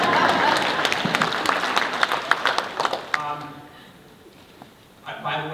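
An audience at a Hawaii education summit breaks into dense, close applause that peaks and then thins out into scattered claps before fading, with a brief burst of sound near the end.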